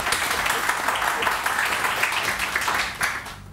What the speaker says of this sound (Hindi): रानी आपा के लिए बहुत सारी तालियां।